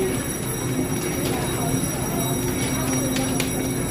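Steady rumble of a Taipei MRT train in a station, with faint metallic squeals and broad hiss, voices murmuring underneath.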